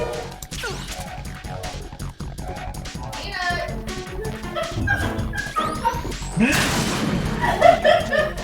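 A dog named Peanut barks in Metal Gear Solid 2, short yips mixed into game music and crashing effects, with someone talking over the clamor.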